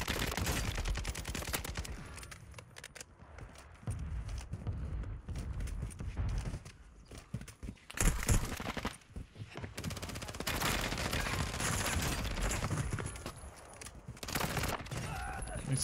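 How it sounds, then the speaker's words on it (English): VEL 46 submachine gun fire in a video game match on the Vondel Park map, loud rapid bursts that come in several clusters with short pauses between them, mixed with other game noise. "A couple of shots, mate."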